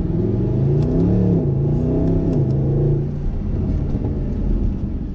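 A Mercedes SLS AMG's V8 revs and accelerates, the deep engine note sweeping up and down in pitch before settling into a heavy, rumbling drone, heard close and loud without any talking.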